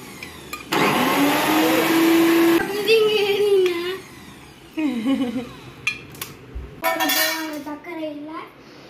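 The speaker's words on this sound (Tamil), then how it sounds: "இப்போ நம்ம அரைக்க போறோம்." A kitchen grinder runs in loud bursts, grinding ingredients with a whining motor that starts and stops several times while an adult and someone talk between and over the runs.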